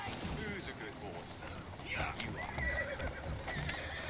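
Horse whinnying and hooves in the Victorian London game Assassin's Creed Syndicate, a few faint neighs over busy game noise with distant gunfire-like cracks, quiet and somewhat masked.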